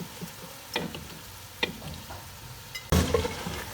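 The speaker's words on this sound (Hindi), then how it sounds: "चिकन ऐड करने के बाद मीडियम टू हाई फ्लेम पर हमने चिकन की 3 से 4 मिनट अच्छी तरह से भुनाई करनी है" A kilo of chicken with ginger-garlic paste being browned in a pot over a medium-high flame, a steady low sizzle with scattered stirring clicks and a louder burst of frying near the end.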